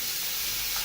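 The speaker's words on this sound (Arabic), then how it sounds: "البصل اتشوح اهو" Onions sautéing in a pan make a brief, steady, close sizzling hiss with no pauses and no voices.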